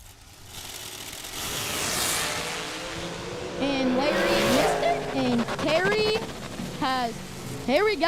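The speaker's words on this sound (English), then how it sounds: "That is a fast dragster right there." At a Working Man's $10 Grand drag racing event, a fast dragster screams down the strip, a loud roaring engine rising and then fading, heard under an announcer's continuous commentary.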